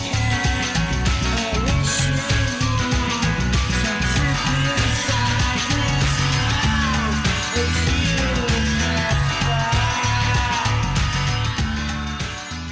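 A song plays loud and dense, with a driving drum beat and layered instruments running continuously without talk.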